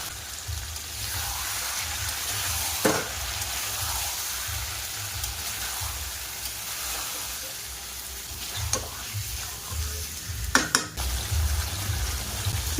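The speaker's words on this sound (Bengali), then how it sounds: "এবার ভেজে রাখা ফুলকপি দিয়ে দেব।" Pre-fried cauliflower and potatoes going into a hot pan for an egg and cauliflower curry, a steady rain-like sizzle of frying with occasional stirring knocks and scrapes, close by, no talking.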